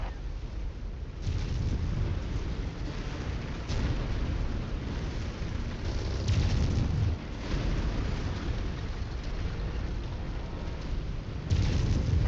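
Explosions destroy targets in MechWarrior 5 as a dense, heavy rumble with repeated low booming blasts swells and fades over a continuous roar of battle noise.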